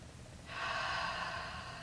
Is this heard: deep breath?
yes